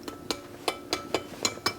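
Freshly fried battered food, just lifted from the fryer, is handled with about seven or eight crisp, brittle crackles spaced through a couple of seconds, close and fairly quiet.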